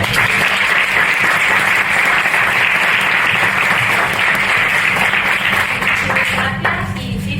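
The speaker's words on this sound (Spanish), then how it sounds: "un fuerte aplauso" A conference audience at a generative AI business event gives loud, sustained applause after a talk, dense clapping close and even throughout, thinning slightly at the end.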